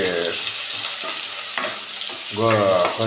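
Dried red chillies and green chillies fry in a pan for kobbari buvva, a close, brisk sizzle with a few quick scraping stirs over about three seconds, swelling louder near the end, with no talking.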